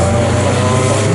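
Engines of race cars at a Snetterton trackday championship race, an Alpine overtaking a Honda Integra, form a continuous steady drone with no distinct pass-by peak, heard at a distance.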